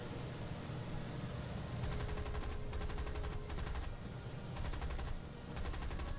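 Bristol Beaufighter cannons and machine guns firing in War Thunder, several rapid sustained bursts over a steady roar of engine and wind, loud and close.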